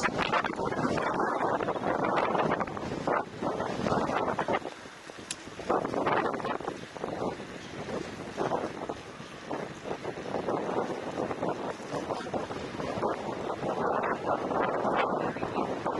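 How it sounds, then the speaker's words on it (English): Gusty wind roaring across the microphone in surging waves, rising and dipping repeatedly with a brief lull partway through, loud and close. "I can hear it's quite windy now."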